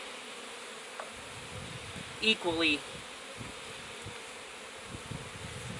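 Honeybees buzzing around an open hive as frames are installed, a steady insect drone under a few brief louder passes near the microphone, with faint talk.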